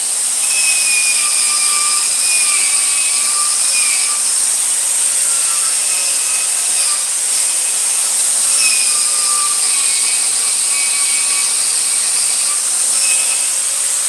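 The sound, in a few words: wire wheel on a power tool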